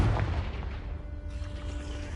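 A Confringo fire spell blasting in Hogwarts Legacy, a dense, loud, booming rumble that sustains through the moment without any voice.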